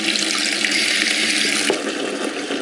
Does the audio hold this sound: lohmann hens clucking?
no